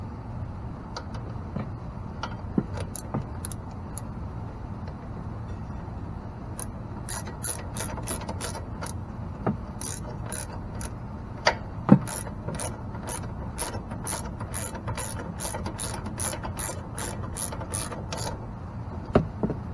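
Bolts being snugged back down with a ratchet wrench: quiet, rapid clicking in repeated bursts over a low background hum, no talking.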